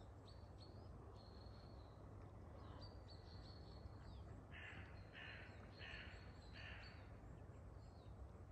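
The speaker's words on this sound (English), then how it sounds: "We can hear the birds, mainly crows this morning" Crows cawing in a woodland on a morning, a run of about five harsh caws in close succession, fairly distant over a constant rushing background with thin bird chirps.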